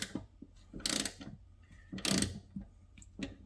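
A screwdriver slowly backing a rusty screw out of a door latch on a Ford Ranger: a few separate creaking, ratcheting turns with quiet gaps between them, close and faint.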